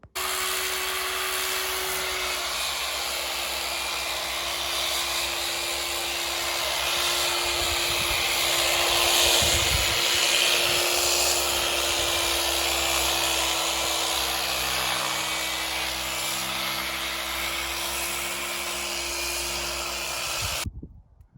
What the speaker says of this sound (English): you can see we've started to polish it, a little messy, but it's turning out nice.